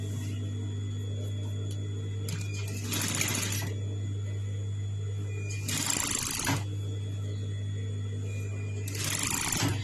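A sewing machine joins a skirt panel to a yoke in three short running bursts of rapid stitching, close, with a low steady hum between them.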